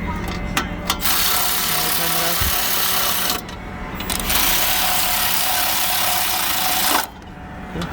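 A ratchet clicks in bursts while tightening a fastener on a particulate matter sensor on a car, close and mechanical, with short pauses between runs of clicks and no talk.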